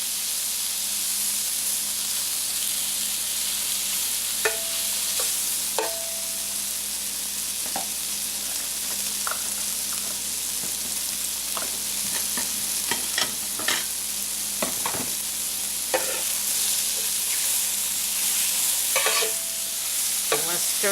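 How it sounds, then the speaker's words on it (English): Mustard stirred through bacon sautéing in a pan: a constant fry sizzle and hiss with repeated scraping clicks and knocks of the utensil against the pan, close and fairly loud, no talking. "Stir the mustard all through it in the bacon"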